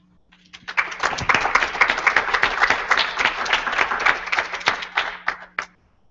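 Sustained audience clapping from a conference award session audience, rising quickly, holding steady and dense for about five seconds, then tapering off, with no talk over it.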